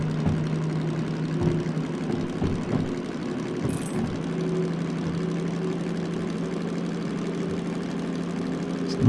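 DM3 diesel locomotive engine in the Derail Valley simulator, a steady low idling drone that holds throughout with a slight rise, heard alone with no talk.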